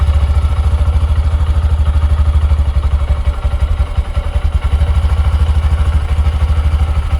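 Honda Shine 125 BS6 motorcycle from 2024, fitted with a slightly shortened silencer, idling steadily close by, its low, even exhaust thump pulsing rapidly with a faint mechanical clatter and no voices.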